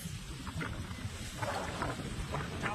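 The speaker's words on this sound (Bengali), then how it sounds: "হাওয়া দিচ্ছে" Cold wind blows in a steady rush over green fields after rain, buffeting the microphone, rising and falling slightly, with no talking.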